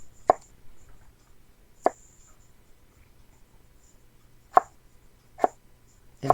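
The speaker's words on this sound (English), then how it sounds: "Next is the purple onion." A knife cuts a purple onion into thin slices for a Sri Lankan village shrimp curry, sharp isolated taps on a board spaced a second or more apart against a quiet background.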